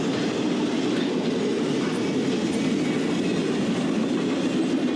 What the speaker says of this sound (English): that's gotta be the most common westbound NS intermodal train on the Harrisburg line in the morning